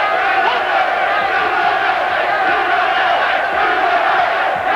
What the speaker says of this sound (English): the crowd here in Beaumont, Texas goes to the Olympic chant.